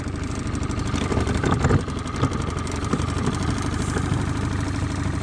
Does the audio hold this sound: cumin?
no